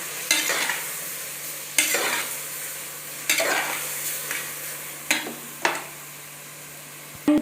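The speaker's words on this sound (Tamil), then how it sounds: "நம்ம அரைச்சி வச்ச சாந்தை ஊற்றிக்கலாங்க." A ground coconut paste is stirred into a cooking pot with about five distinct scraping strokes, each bringing a burst of sizzle before it fades back to a quiet low hum. Nobody speaks over the stirring.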